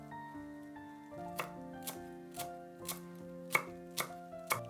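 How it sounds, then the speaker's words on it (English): A knife minces cilantro on a cutting board in seven crisp, evenly spaced chops over light background music, close and with no speech. "Mince 5 grams of cilantro."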